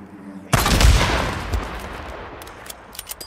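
Gunfire and explosions from the zombie survival game Days Gone: an abrupt loud blast at about half a second with a rattling burst, fading into scattered lighter pops and distant shots.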